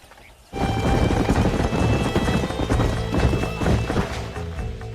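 Horse hooves clip-clop in a quick, steady galloping rhythm in a Western video game, loud and close, starting abruptly and continuing under a layer of background noise.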